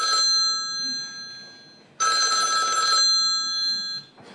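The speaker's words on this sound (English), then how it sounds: "How many of you have fumbled frantically to mute your phone as the ringer explodes in the middle of a meeting?" A mobile phone ringtone rings loudly in bright, steady tonal bursts, one long ring, a brief gap, then another, with nothing else over it.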